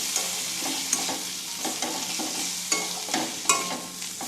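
Masoor dal with tomatoes is stirred in a pot over a constant sizzle, with rhythmic scrapes and clinks of a spoon against the pot at roughly half-second intervals, close by.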